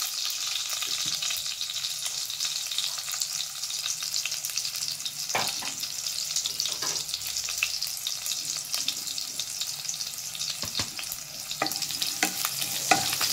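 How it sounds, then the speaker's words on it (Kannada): Garlic sizzles steadily in hot oil in a pan, a continuous close crackle with occasional scrapes of stirring over about thirteen seconds. "ಸ್ವಲ್ಪ ಬೆಳ್ಳುಳ್ಳಿ ಫ್ರೈ ಆಗಬೇಕು"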